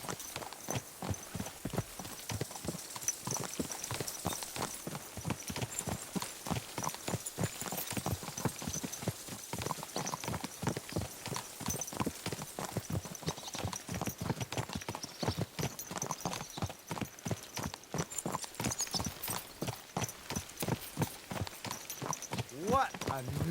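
Steady rhythmic clip-clop of horse hooves at a walking pace in Kingdom Come: Deliverance II, continuous and close throughout, with game voices talking over it.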